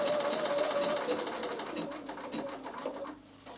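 A sewing machine stitches fabric for a zippered knitting bag, running in a steady, fast mechanical rattle with a thin whine. The rattle slows and thins toward the end and stops briefly just before the close.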